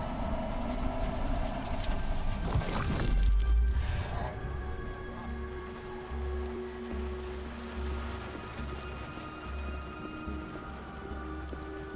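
Steady rain in the video game Beyond: Two Souls patters across surfaces at moderate volume, with a low rumbling hum and a brief swell of noise partway through.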